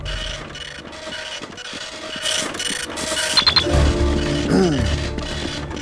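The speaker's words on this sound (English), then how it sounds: "The sound of a printer is embedded in every chef's DNA." A ticket printer chatters out an order inside a cooking video game, its rapid mechanical buzz sitting among busy game sounds and background music at moderate loudness.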